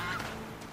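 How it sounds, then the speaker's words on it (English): A goose in the Horizon Zero Dawn video game lets out a single short honk, brief and moderately loud against a steady game background. "Goose."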